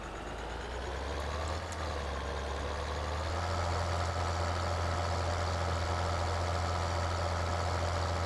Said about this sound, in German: das ist der zweitstärkste Traktor im ganzen Spiel, ja, von den Standardfahrzeugen